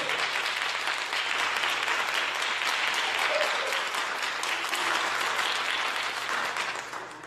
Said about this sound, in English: Come on, let's give him a round of applause